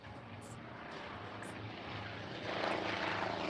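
A Grumman F8F Bearcat propeller fighter at an airshow at McMinnville Airport, Oregon, a distant engine drone that grows louder toward the end, faint under the steady background.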